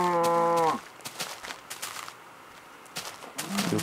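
A Minecraft cow gives one loud, close, drawn-out moo, followed by soft footsteps and small game sounds, with no one talking.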